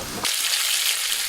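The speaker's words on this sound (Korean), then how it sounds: "지글지글 전 부치는 소리." Seafood green onion pancake (haemul pajeon) sizzling steadily in hot oil in a restaurant kitchen, a dense, continuous frying hiss that starts abruptly and holds at close range with no voices.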